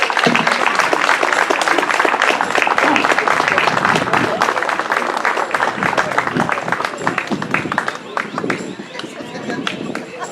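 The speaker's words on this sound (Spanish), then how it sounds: "Un aplauso para ella." Audience at a Chilean cultural conversation event breaking into sustained, loud applause, a dense crowd of clapping that slowly thins toward the end, with voices murmuring underneath.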